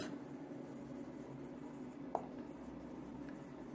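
A pen writing on paper during an accounting lesson, a soft, steady scratching close by under a constant background hiss, with one small tap partway through.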